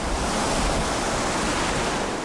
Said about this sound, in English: This is the Atlantic Ocean.